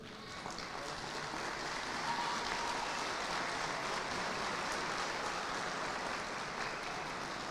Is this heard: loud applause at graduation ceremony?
yes